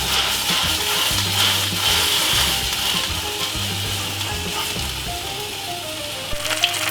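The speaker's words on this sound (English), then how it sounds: "all I'm going to do is to get my meat and pop it straight inside of a fried pan like this" Beef searing in a frying pan makes a loud, constant sizzle close by, with occasional low knocks and scrapes of the meat being moved, and no talk.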